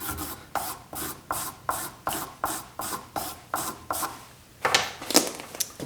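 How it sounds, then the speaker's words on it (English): A woodworking chisel drawn bevel-down along a leather strop charged with compound, giving about a dozen steady, evenly spaced rubbing strokes up close, then a few quicker, rougher passes at the end. "Now we can finish off with the leather strop."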